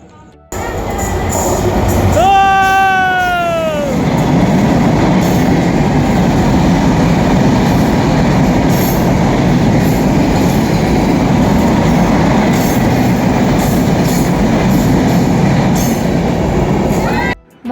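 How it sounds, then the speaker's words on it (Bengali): A train passing through a station where it does not stop in Munshiganj, Bangladesh. A loud horn blast opens it, then a heavy, continuous rumble and clatter of wheels lasts until it cuts off at the end. "এই ট্রেন আইতেছে"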